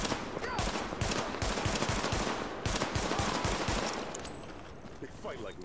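Gunfire in the video game The Division, dense rapid bursts of automatic fire rattling continuously for several seconds, loud and close, with faint game voices mixed underneath.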